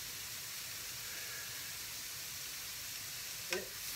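Salted mushrooms topped with parsley sizzle faintly in a pan as a soft, even hiss throughout, with one brief scrape of a spoon near the end as they are stirred.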